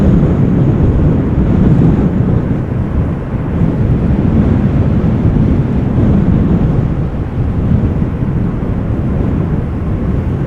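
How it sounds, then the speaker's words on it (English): GE90 engines on a Boeing 777 spool up at Amsterdam Schiphol Airport during a windstorm, a loud, continuous low roar mixed with gusting wind buffeting the microphone throughout. "I think it might be the GE90s of this triple that are spooling up."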